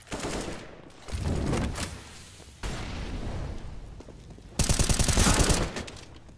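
Rapid bursts of automatic gunfire in Counter-Strike on the Mirage map, finishing off an enemy player, come in several loud clustered volleys with brief gaps, the final burst the densest and sharpest.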